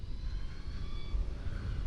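A 2023 LiveWire One electric motorcycle while riding, giving a steady thin electric motor whine with faint high tones over heavy low wind rumble, continuous and fairly quiet.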